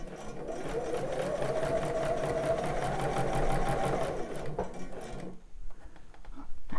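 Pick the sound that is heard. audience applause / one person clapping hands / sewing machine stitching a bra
sewing machine stitching a bra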